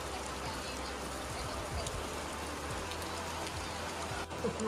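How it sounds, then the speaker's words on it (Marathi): Rain falls steadily at a village fish market, a soft continuous patter of drops on surfaces with faint background voices underneath. "पाऊस आले आज दिवसभरात पहिलो पाऊस."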